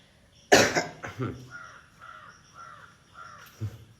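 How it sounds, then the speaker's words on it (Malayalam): A man's single sharp, loud cough bursts out near the start, followed by quieter rasping, throaty sounds and another brief rough cough at the end. "ജസ്റ്റ് ഞാൻ ഒന്ന് ചുമച്ചതിടാ"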